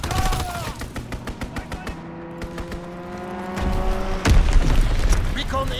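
A fighter plane makes a strafing run in Call of Duty: WWII, heard as rapid bursts of machine-gun fire with sharp, evenly spaced cracks and a heavier booming rumble toward the end, alongside game voice lines.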